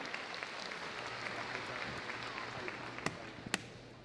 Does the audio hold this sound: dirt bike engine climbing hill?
no